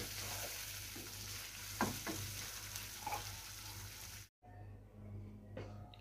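Hyderabadi khati chicken simmers on low heat in a pan, giving a soft, steady bubbling sizzle with a few light clicks of a spoon, faint and close, broken by a brief dropout before the gentle bubbling resumes.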